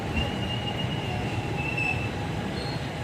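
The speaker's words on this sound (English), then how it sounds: "The train has arrived." A Hampi Express train with a WAP7 locomotive pulls into a railway station, wheels squealing in a steady high whine over a continuous low rumble of rolling carriages, loud and close with no talking.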